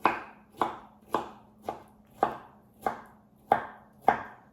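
A knife rough-chops vegetables for a shrimp and andouille sausage stuffed mirliton on a cutting board, with eight sharp, evenly spaced chops, each trailing off, loud and close with no talking.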